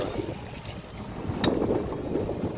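A fishing boat at sea sets lobster nets while water splashes up against the hull. Steady wind and water noise run throughout, and a brief, sharper splash comes near the middle.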